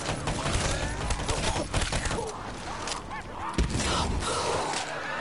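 Dense bursts of gunfire and explosions fill a Call of Duty Black Ops 3 Zombies match, a steady loud barrage of shots and blasts with players' voices mixed in.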